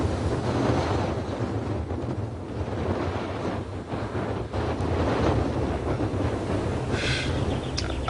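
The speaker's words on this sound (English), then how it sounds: "This bloody wind." Strong wind buffets the microphone during a long-distance bicycle trip, a steady loud roar that rushes and swells throughout with no other clear sounds.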